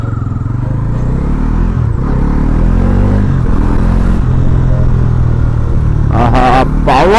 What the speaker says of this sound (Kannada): ಇದ್ರದ್ದು ನಿಮಗೆ ಇಂಜಿನಲ್ಲಿ ವಿಸಿಲ್ ಟೈಪ್ ಸೌಂಡ್ ಬರ್ತದೆ